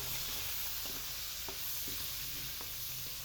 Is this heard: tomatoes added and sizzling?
yes